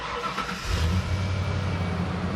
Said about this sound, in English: now I'm going to turn on the truck so we can test the new alternator